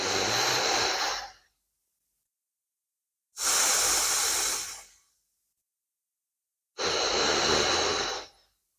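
Three slow, deep breaths during a yoga sphinx pose, each a long airy rush lasting over a second, separated by quiet pauses, close and clear with no talking.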